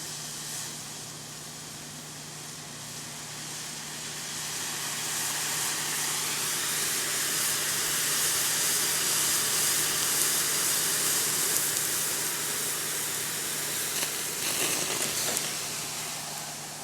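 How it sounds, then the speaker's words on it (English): Milk in a pan boils over on a Capital Culinarian range top, giving a steady, close hiss and sizzle that swells after a few seconds and holds on to the end, with no talking. "We're going to let it boil and let it just flow over the top for a couple of seconds"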